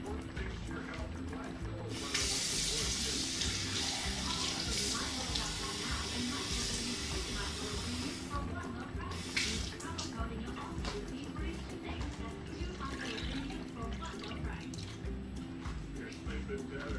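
Water pours steadily into a pot of washed yellow lentils for curry, a close broadband splashing rush lasting several seconds, then a second shorter burst, with quiet kitchen background between.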